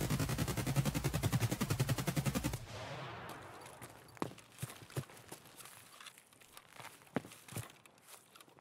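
SA58 rifle fire in the game Escape from Tarkov: a loud, rapid full-auto burst for about two and a half seconds, then scattered single shots and clicks with a lingering tail.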